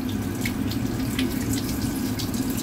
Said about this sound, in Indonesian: Air bisa lebih dikecilkan lagi biar tidak terlalu banyak membutuhkan air